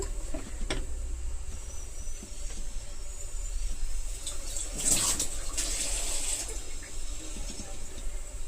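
A cup of water is poured into a cooking pot holding spiced brinjal, gongura and dried prawn curry. The splashing rush is steady and close, swelling briefly midway, with no talking.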